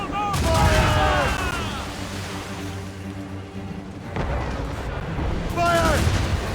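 Ship cannons fire in a naval battle in Assassin's Creed Rogue, with booming blasts over ocean waves and creaking wood, while shouted commands and crew voices carry through.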